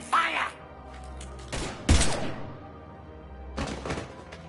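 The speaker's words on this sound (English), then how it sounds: "Now open fire!" Gunfire bursts in the Mass Effect video game: a sharp volley near the start, a heavier blast around the two-second mark and another cluster later, with game dialogue and background score between shots.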